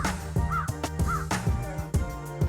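A crow caws several times in a row, harsh rasping calls repeating close by against a faint background.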